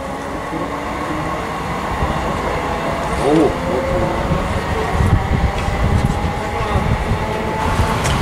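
A Class 334 Edinburgh–Helensburgh passenger train rumbles steadily past at Yoker, loud and close, with wheel squeal and rail clatter throughout.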